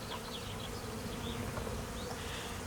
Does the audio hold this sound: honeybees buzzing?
yes